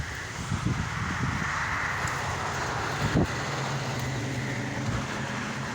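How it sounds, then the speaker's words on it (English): A car leaving a car show drives past on a windy road, a steady low rumble of traffic with wind buffeting the microphone. "Here comes another car that was at the car show"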